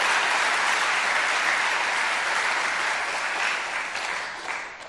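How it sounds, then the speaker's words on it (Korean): A church congregation applauds the elders in thanks during a Sunday evening worship service. The sustained, dense applause from a large room fills the space evenly and stays loud before easing slightly toward the end. "우리 장로님들에게도 고맙다는 박수 한번 하시죠, 여러분들"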